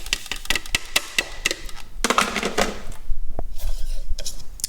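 Grated soap is stirred into homemade powdered laundry detergent, giving close scraping, knocking and clinking against the container in an irregular rhythm, louder toward the end, with no talk.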